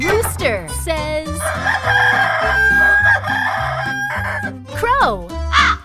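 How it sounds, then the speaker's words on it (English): A rooster crows loudly in a kids' animal-sounds lesson, one long drawn-out cock-a-doodle-doo with some clucking, preceded and followed by a bright voice and playful musical stings. "Rooster says."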